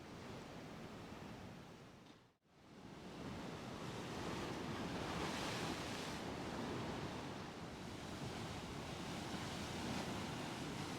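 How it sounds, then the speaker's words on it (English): Ocean surf at Garachico sends up a broad, constant roar of breaking waves close by. It cuts out sharply for a moment near the start, then returns full and steady with the wash swelling and easing. "Talking about waves"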